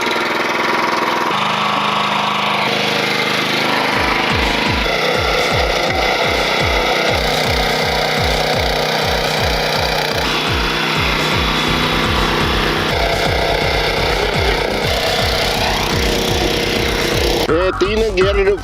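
A 10 HP petrol back rotary tiller engine starts and runs, settling into a loud, rapid, thumping rhythm close by, with a voice talking over the running machine.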